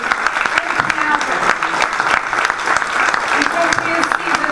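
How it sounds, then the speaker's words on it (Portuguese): A crowd at a 2013 Socialist Party candidate presentation in Peniche, Portugal, applauds warmly. Loud, continuous clapping fills the clip with crowd noise mixed in. "peço para ela uma salva de palmas"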